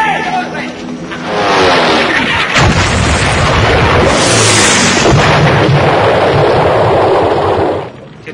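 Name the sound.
bombing explosions in a film scene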